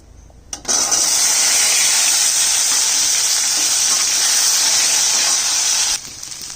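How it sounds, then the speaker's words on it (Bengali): Potatoes and taro hit hot oil already tempered with bay leaf, dried red chili and cumin, bursting into a loud, steady sizzle that holds for about five seconds before dropping back to a quieter crackle. "তেলটা ছিটে আসবে"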